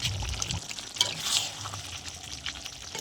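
Ghee is poured into a pot of vegetarian potato dum made with small potatoes, a soft hissing sizzle under a brief liquid pour, close and fairly steady.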